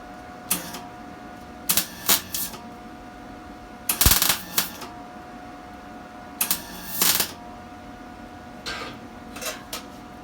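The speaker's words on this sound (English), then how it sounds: "tack welding it together right here at the front" Tack welding a steel medieval close helmet together at the front: several short, crackling arc bursts at irregular intervals over a steady faint hum, close up and with no talking.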